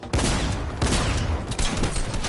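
Sniper rifle fire in a Fortnite match, several loud, sharp, close cracks in quick succession, each with a short burst of noise and echo, with no voices.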